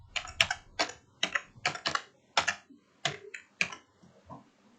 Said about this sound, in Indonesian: ketik Windows 10.